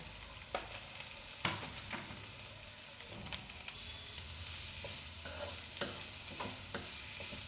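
Onions frying in oil for a tamarind meal maker curry, a constant low sizzle with a spoon scraping and knocking against the pan at irregular intervals.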